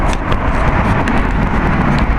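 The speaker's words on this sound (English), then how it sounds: "Truck!" A truck passing close to cyclists on a road, a loud rumbling wash of engine and tire noise mixed with wind buffeting across the whole moment.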